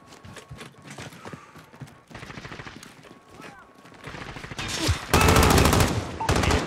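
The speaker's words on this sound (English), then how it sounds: "Precision airstrike ready for gun run." Heavy gun run airstrike fire in a military first-person shooter team deathmatch: scattered shots and game sounds build into a loud, sustained rapid burst of automatic fire near the end.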